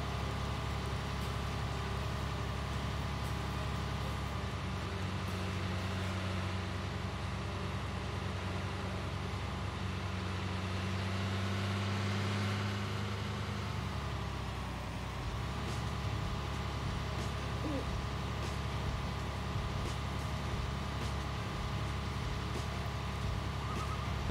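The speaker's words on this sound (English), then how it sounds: "Interesting that the engine noise changed." A tractor engine in Farming Simulator 19 drones low and steady on its own, its tone dipping and shifting partway through before settling back into a constant hum.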